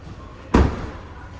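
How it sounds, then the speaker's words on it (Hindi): A car door on a 2026 Hyundai Venue shuts with a single solid, close thud, a short loud broadband impact that decays quickly into quiet. "ऐसे दरवाजे बंद करते तो आवाज़ आती है"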